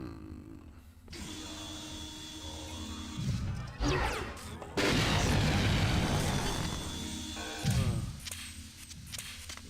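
Several heavy booming blasts burst out in quick succession over a dense, rumbling System Shock 2 game soundscape, loud and close, with a lull between them.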